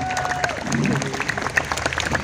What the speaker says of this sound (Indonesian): Tepuk tangan, silahkan ambil.